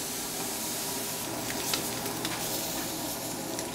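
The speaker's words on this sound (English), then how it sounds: "Just gonna add this right on the plancha here. And just sear it on all sides." Meat searing on a hot plancha in a restaurant kitchen, a dense steady sizzle and hiss with small crackling pops, loud and close, no talking.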